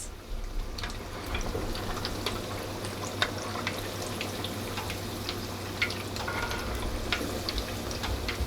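Jalapeno poppers deep frying in hot oil, a steady dense sizzle and crackle with scattered pops running evenly throughout, close and fairly loud with no voices.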